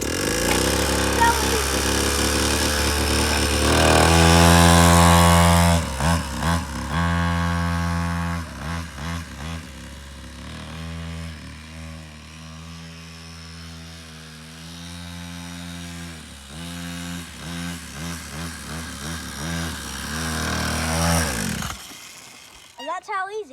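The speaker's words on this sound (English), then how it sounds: "It is a mini motocross 49cc two-stroke." Mini motocross 49cc two-stroke dirt bike engine running close by: a loud buzzing idle with a rev burst near the start, then a steady, fluttering rattle with small dips before it cuts out.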